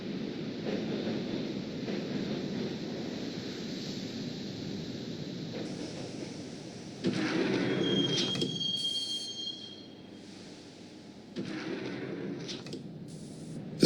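Subway train in the video game Max Payne riding on rails, a steady low rumble throughout with a screeching metallic squeal and door-like clatter midway, then a quieter stretch before the rumble swells again.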